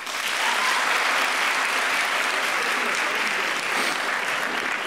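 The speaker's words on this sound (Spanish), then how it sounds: "Los aplaudan los que crean que lo que hizo Facundo fue desubicado." Steady, dense applause from a live improv comedy audience fills the room, loud and unbroken from start to finish with no voices on top.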